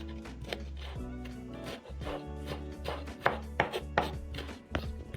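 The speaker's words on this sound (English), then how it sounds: "you can use a half a Scotch bonnet. Finely chopped too." Close, rapid knife chopping as half a Scotch bonnet pepper is finely minced on a board, with quick irregular taps and thuds over a steady low background hum.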